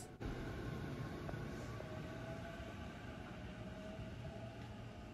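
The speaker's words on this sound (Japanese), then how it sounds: "まずは乗ってきた列車を見送ります。" Steady rumble of a Nambu Line train departing a station and rolling away along the tracks, with a thin high whine above it, constant and fairly distant.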